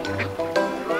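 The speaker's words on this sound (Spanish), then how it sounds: "¡Qué raros son estos patos!" Cartoon ducks in a fishing game let out a few short, nasal quacks over light tonal game sounds, fairly close and clear.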